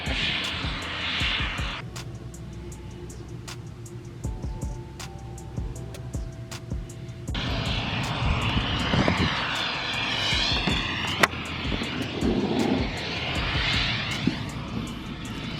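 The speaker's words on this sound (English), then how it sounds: "all I gotta do is pull out the airplane and start her up" A light airplane engine clicks and ticks, then starts with a cough and settles into a loud, steady propeller drone nearby.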